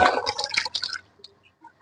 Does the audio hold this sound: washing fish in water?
yes